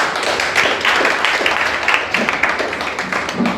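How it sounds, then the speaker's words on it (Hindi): A church congregation claps together, a lively dense patter of hands lasting a few seconds with no speech over it. "अपने लिए भी तालियां बजाएं।"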